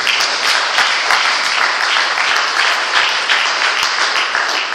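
Loud, dense applause from a church congregation, many hands clapping in a continuous roar that stays strong and even throughout, close and full with no speech over it.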